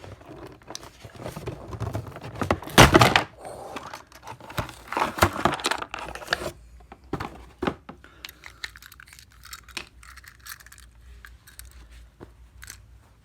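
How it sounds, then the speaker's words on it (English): Plastic packaging crinkles and crunches up close as a Thomas the Tank Engine toy train is worked free of its package, with irregular bursts of rustling and snapping, a loud flurry early on, then sparser clicks and crinkles. "Now the hard part to get Thomas the Tank out of its packaging."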